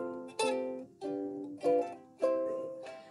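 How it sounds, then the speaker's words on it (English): Ukulele chords ring out close and clear, four separate strums spaced evenly, each one sustaining and fading before the next, with no voices. "I don't know if you've heard someone play the ukulele before."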